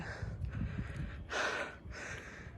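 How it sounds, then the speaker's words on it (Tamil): Heavy, labored breathing from someone who has just climbed a hill toward a cave: faint gasping breaths in a few short bursts, close to the microphone. "இவ்வளோ தூரம் ஏறி வந்தது கொஞ்சம் மூச்சு வாங்குது"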